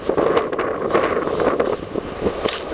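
Wind buffets the microphone in loud, uneven gusts on a mountain summit in the Belknap Range or White Mountains, with no talking.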